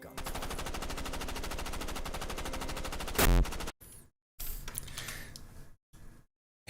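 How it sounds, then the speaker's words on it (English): Loud, sustained burst of rapid automatic gunfire, a sound effect of a tree line erupting, running dense and continuous for about three seconds with a sharp crack near the end, followed by shorter scattered shot bursts separated by silence. "Take aim, and the tree line lights up with gunfire."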